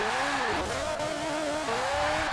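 A car drifting in a racing video game, its engine droning high with a rising and falling pitch and a sustained tire-squeal whine, loud and continuous throughout.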